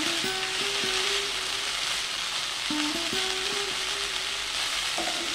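Banana flower and five chopped green chillies fry in a pan over a medium gas flame, giving a steady close sizzle with a few soft stirring scrapes and no talk.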